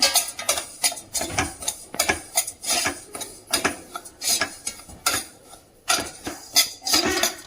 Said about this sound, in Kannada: ಕೈಯಲ್ಲಿ ಮುಟ್ಟಿದರೆ ಸ್ವಲ್ಪ ಬಿಸಿಯಾಗೋವರೆಗೆ ನಾವು ರವೆಯನ್ನು ಫ್ರೈ ಮಾಡೋಣ